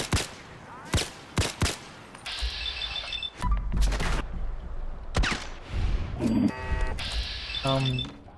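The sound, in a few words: fully automatic rifle gunfire in Fallout 4 video game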